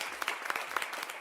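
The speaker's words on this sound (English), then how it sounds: "let's give an applause to Raphael and everybody else who just joins the channel for the first time here" Applause from a small group, scattered claps with a few sharper peaks, moderately close and brief.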